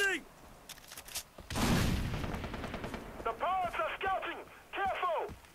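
An MP5 fires in Far Cry 3 multiplayer, with a dense burst of rapid shots near the start and later clusters of chirping, whistling game effects, while someone talks over the action.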